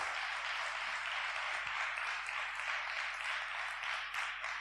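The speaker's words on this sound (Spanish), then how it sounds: "Dele un fuerte aplauso al Rey de Reyes." Sustained applause from a large church congregation, a dense wash of many hands clapping at a fairly distant, even level throughout.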